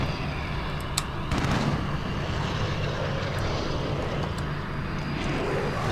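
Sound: VTOL aircraft hovering overhead in a video game

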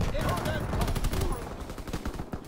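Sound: shotgun firing in a video game

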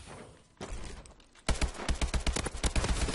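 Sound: AK rifle gunfire in video game Call of Duty Advanced Warfare

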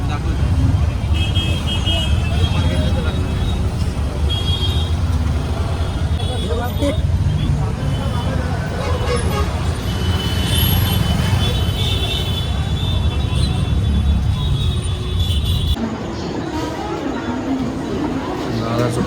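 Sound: auto rickshaw ride in traffic

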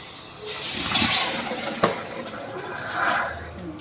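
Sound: water poured into hot sugar in a pan for syrup

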